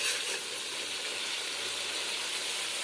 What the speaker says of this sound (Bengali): মশলা থেকে এখন তেল ছেড়ে দিয়েছে, আর একটু মশলাটা কষানো হোক।